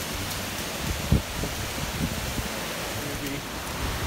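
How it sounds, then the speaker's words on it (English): Heavy rain falling outdoors in a storm, a steady dense hiss with a few louder thumps, close and continuous with no talking. "That is some serious rain"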